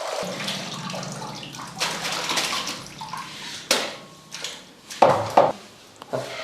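Water sloshes and splashes as potato wafer slices are handled and rinsed in a tub of clean water, with intermittent louder splashes and clatter.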